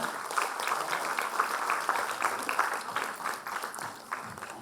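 Steady applause from a crowd, a dense wash of clapping that carries evenly throughout and eases off slightly near the end.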